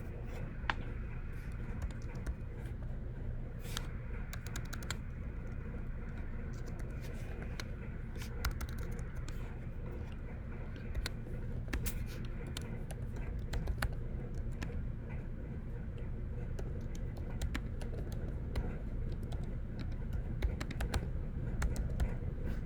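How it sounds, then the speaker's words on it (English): Steady computer keyboard typing, a dense run of soft key clicks continuing for about twenty seconds over a constant low background hum, with no talk. "going to start typing"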